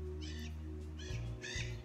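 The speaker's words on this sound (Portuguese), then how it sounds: "As araras voando, ó." Macaws fly past, giving three short, harsh squawks spaced about half a second apart. The calls are faint and distant over a steady low hum.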